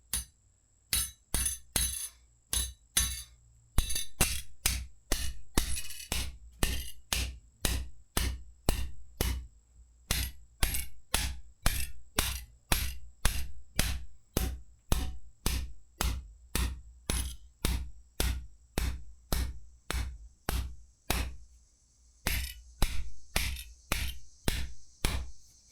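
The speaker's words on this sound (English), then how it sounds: "I'm going to bang it in the hole with the nuts on" Hammer blows drive an expanding Tiger Brand permanent jackpost collar, nuts attached, into a hole in a crawlspace, sharp metallic bangs struck in a steady rhythm, dozens in a row with brief pauses, loud and close.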